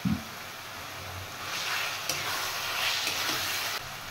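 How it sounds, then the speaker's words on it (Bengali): Ginger, garlic and onion fry in a pan with a continuous, loud, close sizzle and a few soft stirring scrapes, with no one talking. "আদা আর রসুনটা এবার পেঁয়াজের সাথে আর একটু ফ্রাই করে নেব।"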